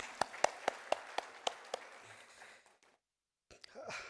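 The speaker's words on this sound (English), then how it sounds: "Let's give a big round of applause to all of you first." An audience at a national real estate awards ceremony claps in a brief, sparse burst, a handful of distinct claps close to the microphone that fade out and are followed by quiet before someone starts speaking again.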